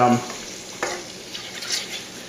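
Garlic toasting in a warm pan as the first step of a curry, a soft sizzle with light stirring scrapes over a couple of seconds, close and fairly loud.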